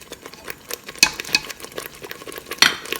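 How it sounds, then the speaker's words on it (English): Stirring in a pot as tomato paste is worked into a simmering meat curry: soft scraping spoon strokes with a few sharper clinks of utensil on pan, close and steady, with no talking. "we're gonna go ahead and add the 2 tablespoons of tomato paste in there"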